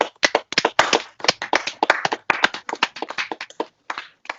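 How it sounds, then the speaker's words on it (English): A few people in a small podcast room clap by hand to welcome a guest, producing close, dry, individual claps in an uneven rhythm that stop after about four seconds. "Everyone give a round of applause and please welcome Jacob, everyone."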